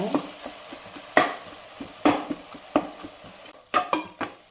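Onions and tomatoes sauté in a pan for chicken biryani, a soft sizzle under a rhythmic series of sharp spatula scrapes and knocks against the metal, close and fairly loud, with no voices.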